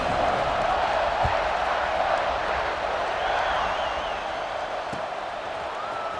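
Stadium crowd cheering before kickoff in EA Sports College Football 26, a broad continuous roar with scattered whistles and whoops, steady and then easing slightly.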